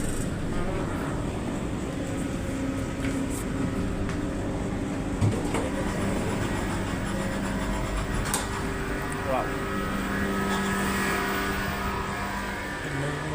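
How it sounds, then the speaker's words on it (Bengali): Inside a metro train arriving at Lusail, Qatar, a steady rolling rumble and cabin hum continue throughout, with faint voices and occasional clicks under the noise. "অবশেষে লুসাইল চলে আসলাম ট্রেনের মাধ্যমে"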